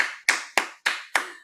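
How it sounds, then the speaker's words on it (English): Five sharp hand claps spaced evenly about a quarter second apart, each crisp and close with a short ringing decay, like a single person clapping rather than a full audience. "Can we have one more round of applause for the new Avtar of SPSU?"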